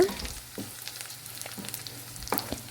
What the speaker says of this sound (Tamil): பூண்டு சின்ன வெங்காயம் இது எல்லாத்தையும் நல்லா வதக்கி விட்டுக்கோங்க.